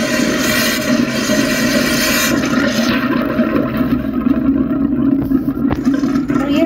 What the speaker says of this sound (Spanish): empieza a salir aire en vez de agua